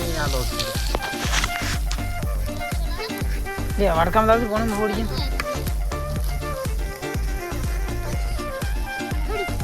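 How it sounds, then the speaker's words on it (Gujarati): Puffed rice being tempered in hot oil for bhel, crackling and sizzling steadily throughout at close range, with lively overlapping talk from several people on top. "આપણે વઘાર કરી દઈએ"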